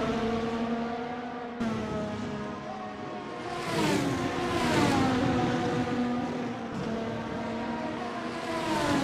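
Race cars on the Suzuka circuit in a racing video game, engines droning steadily with shifting harmonic pitch as cars pass and accelerate, a continuous loud engine bed with no talk.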